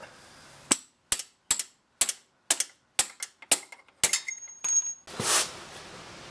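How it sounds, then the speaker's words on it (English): A wrench taps a stubborn bolt out during exhaust manifold removal on a Maserati Merak, about ten sharp metallic knocks at a steady pace, close and distinct, followed by a brief scraping rustle. "if it's stubborn, you can put a wrench here and then tap it out"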